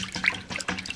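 Soapy, barely warm water poured in a small amount while preparing cross-stitch work, a light splashing trickle with brief bubbly bursts across the second, close and fairly quiet with no talk.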